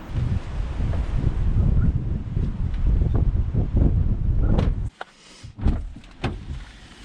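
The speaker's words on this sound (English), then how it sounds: "It's windy out there." Steady wind from Storm Eunice buffeting the microphone in a continuous roar, dropping away briefly near the end before a few more gusts.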